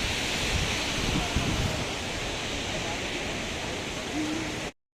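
Steady, close roar of waterfalls at a mountain viewpoint, running unbroken for nearly five seconds before cutting off, with a faint murmur of people in the background.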